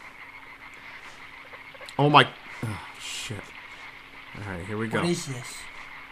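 Frogs croaking in the dark forest of the game Limbo: a few short, raspy croaks near and fairly loud, one burst early and a cluster later, with someone talking between them.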